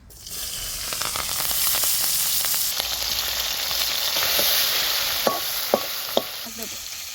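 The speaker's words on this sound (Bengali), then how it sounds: "তেজপাতা কাঁচা লঙ্কা কটা দিয়ে দিচ্ছি" Bay leaves and green chilies dropped into hot oil, a loud, steady sizzling hiss close by, with a high whine partway through and a few sharp spoon clinks near the end.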